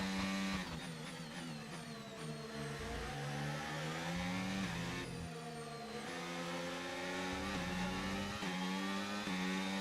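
A Formula 1 car engine in the F1 25 racing game screams at high revs, its pitch sweeping as the car races past, then another car follows close behind.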